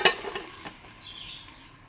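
Sliced onions for a seeni sambol are stirred in a pan with a utensil. A sharp metallic scrape opens, followed by softer clinks and scraping with a faint sizzle underneath.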